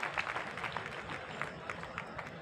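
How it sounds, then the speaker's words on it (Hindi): Audience applause at a Hindi poetry recital in Kota, heard as faint, distant, continuous clapping from a crowd with no voices on top. "उनके सम्मान में जोरदार तालियां बजाइए।"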